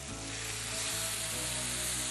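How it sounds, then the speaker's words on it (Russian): Seafood sizzles hard in a very hot pan with wine added, giving a steady, loud, continuous frying hiss with bubbling crackle throughout and no voices. "Сейчас мы будем обжаривать морепродукты."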